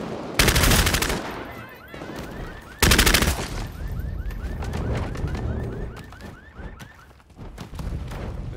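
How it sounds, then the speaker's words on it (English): Gunfire from a squad in the video game Bloodhunt, two loud close bursts early on followed by scattered distant shots and background game sounds, with faint voices. "They're shooting, just chasing a solo there, man."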